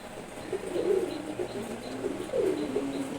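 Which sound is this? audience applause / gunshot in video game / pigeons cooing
pigeons cooing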